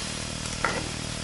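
Sliced pickled cucumbers warming in leftover oil in a frying pan, a soft steady sizzle with a brief stir or clink midway, quiet and close, no voices.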